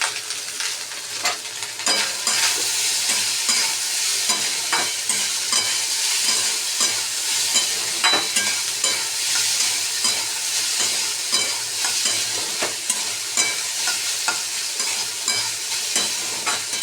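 Cooked rice being stirred with lemon juice in a hot pan: continuous loud sizzling with repeated scraping and tapping of a spoon against the pan in an uneven rhythm, close up and alone without talk.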